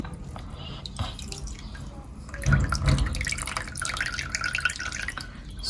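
Popcorn ogi pap being strained, with wet liquid dripping and trickling steadily into a container at close range, swelling in the middle and continuing throughout, no voices present.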